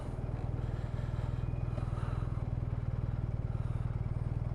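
A BMW R1250RT motorcycle is ridden in third gear, its boxer engine holding a steady, fast, evenly pulsing drone under wind noise with no talk.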